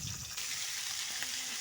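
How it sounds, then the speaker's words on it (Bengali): Small sea chanda fish frying in hot oil: a soft, steady hiss and sizzle with faint crackles, heard close but quiet, without any talking. "তো আমি মাছগুলোকে ভাজি করা শুরু করে দিলাম"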